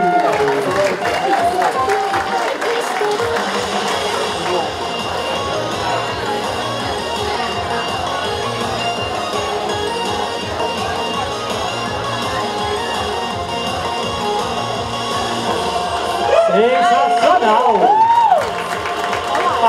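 A crowd at a Sunday cosplay parade applauds and cheers through a long stretch, steady clapping and shouts under booming music, with an announcer's voice rising loudly near the end.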